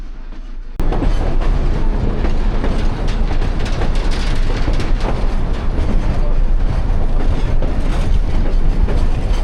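A train rumbles along its rails in northern New Mexico, a loud, continuous roar with rattling and clacking from inside the carriage, beginning abruptly after a quieter moment.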